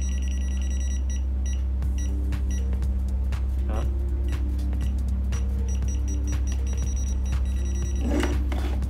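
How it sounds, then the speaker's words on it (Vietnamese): An Aneng A3007 smart voltage tester pen beeps repeatedly as it is moved toward a live signal, short electronic tones over a steady hum that come quicker as it nears, with a faint voice speaking. "Mình tiến lại gần hơn thì nó sẽ bíp nhanh hơn này."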